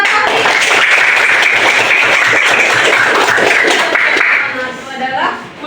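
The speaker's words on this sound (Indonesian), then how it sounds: "Tepuk tangan buat Fahri." Classroom applause during a school lesson, loud close clapping from a group of students that dies away near the end as a voice begins speaking.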